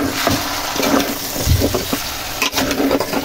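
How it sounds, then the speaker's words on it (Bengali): Beef is stirred with salt and whole spices in a pot for kosha mangsho: a steady wet, squelching churn with scattered scrapes and knocks, close and continuous, with no talking. "এটাকে খুব ভালোভাবে নাড়াচাড়া করে নিব"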